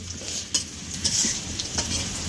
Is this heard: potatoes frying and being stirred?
yes